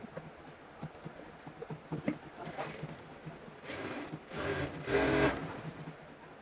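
A sewing machine stitching the body of a kameez runs in short, mechanical bursts after light handling noises, each run getting louder and longer toward the end, with no talk.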